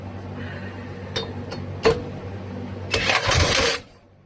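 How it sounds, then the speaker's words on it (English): An old Wisconsin Model AB engine with a freshly rebuilt carburetor fires with a few sharp bangs, then a low chugging run that cuts off abruptly near the end. "Let's fire it up again, and let's see how slow we can get this to run."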